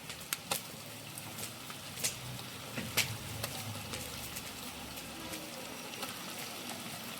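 Ginger and garlic sizzling in oil for a large batch of beef biryani, a steady soft crackle with scattered sharper pops and spits, moderately quiet and without talk.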